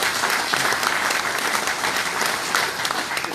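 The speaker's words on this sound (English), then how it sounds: "Judge Bowler, he deserves a round of applause also" Applause from an audience at a political action committee meeting, steady, dense clapping that fills the room at close range for the whole stretch, with no voices rising above it.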